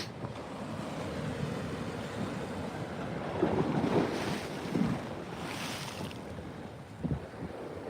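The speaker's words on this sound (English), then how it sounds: "And you can hear the waves splashing on the steps." Waves splashing onto the steps at the San Francisco Marina, with rolling surf under heavy wind noise and a few louder sloshing bursts close by.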